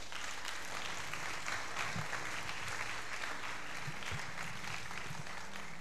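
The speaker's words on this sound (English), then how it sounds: "Clap for Jesus right now" A congregation claps at a revival tent meeting, a continuous, fairly distant patter of many hands with faint low rumbles underneath and no talking.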